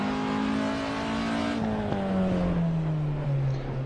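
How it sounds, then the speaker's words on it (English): A Porsche Cup race car sweeps past on a circuit at speed, its loud engine note dropping in pitch as it passes close by and pulls away, with no other sound over it. "There we go, here comes a Porsche. This is just to show you the pace."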